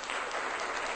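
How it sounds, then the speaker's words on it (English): A crowd applauds in a steady, dense wash of clapping lasting about a second, loud and even with no gaps or voices. "That's the Michael Phelps fan club applauding."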